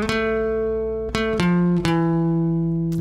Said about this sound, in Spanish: hay una especie de punteo que ocupan bastante.